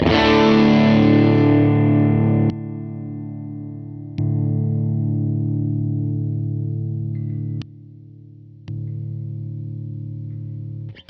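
An electric guitar chord rings out, then sustained notes drop and jump back up in level as a Diamond Comp SE compressor pedal is switched off and on.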